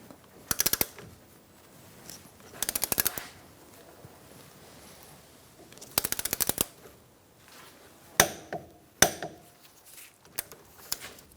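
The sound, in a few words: ratchet tightening Ford Focus ball joint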